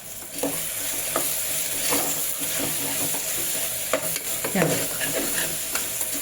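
Coriander powder stirred into hot frying oil for a vegetable biryani: a loud, continuous sizzle with irregular scraping taps of the spoon against the pan, close and steady throughout.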